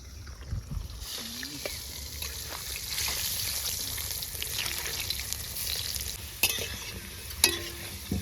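Potatoes frying in a pan, a steady close sizzle with occasional scraping and clinking of a spatula as they are stirred, plus brief faint voices and a few sharp knocks.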